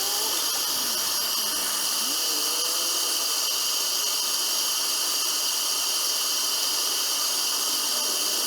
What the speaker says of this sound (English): I'm going to torch these guys